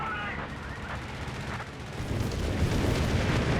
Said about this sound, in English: Air support's coming on in. This is a fragmentation bomb to strafe them.